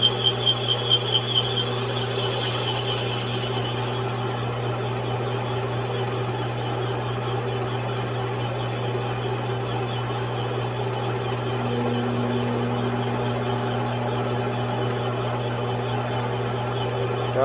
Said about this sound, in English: I probably should have put the lathe in a little bit higher gear